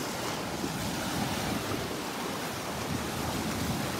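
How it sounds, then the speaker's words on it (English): Gulf surf at Delnor-Wiggins beach washing in against trees along the shore: a continuous, full rush of breaking waves blended with wind buffeting the microphone, steady and loud with no voices. "Look at these waves crashing into the trees here."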